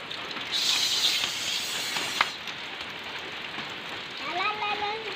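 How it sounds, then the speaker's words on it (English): Heavy rain pours down in a steady hiss, close and loud, with a brief knock in the middle and voices briefly audible near the end. "Mukusog ng ulan."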